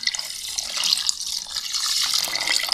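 Milk pours into a pan for gajrela, a close, fairly loud continuous splashing stream that rises and falls slightly, with no talk.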